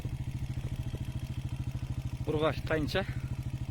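A motorcycle engine idles close by with a steady, rapid low thumping pulse throughout, while someone briefly speaks over it near the end.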